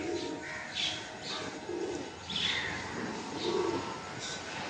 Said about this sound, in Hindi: कबूतर है पूरे।